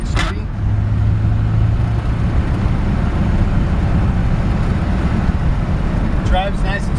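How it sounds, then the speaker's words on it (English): A 1951 Ford F1 pickup with its original flathead V8 drives along, a steady low engine rumble and road noise running throughout, with someone talking over it. "It's got the original flathead V8. Shifts through the gears good. Runs good."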